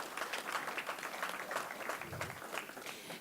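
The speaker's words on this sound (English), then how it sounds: "Please give him a round of applause" A civic audience at Houston's Africa Day 2018 celebration applauds after the mayor's remarks, a steady wash of many hands clapping at moderate volume, continuous across the whole stretch without speech.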